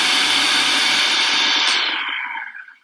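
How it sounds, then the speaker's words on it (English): A blender or food processor whirs steadily at high speed while blending sugar and cornstarch, with a loud broadband roar that holds for nearly two seconds and then winds down and fades out. "you can do it in a blender or a food processor. You put the lid on and you'll just let it go"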